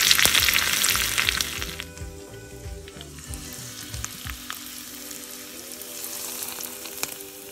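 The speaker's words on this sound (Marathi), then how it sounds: "Now the Rai is fluttering." Mustard seeds sizzle and crackle in hot oil, loud at first with quick popping, then settling into a softer steady fizz, as a tempering for a salad.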